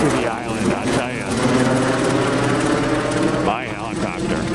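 A helicopter's steady, thudding rotor drone nearby on Maui, loud and continuous, with a faint whine over the top.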